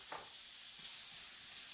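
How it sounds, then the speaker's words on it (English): Onions sizzle faintly in the bottom of a pan, a soft steady frying hiss with a brief clink early on and no talk. "So just add the onions into the bottom of the pan."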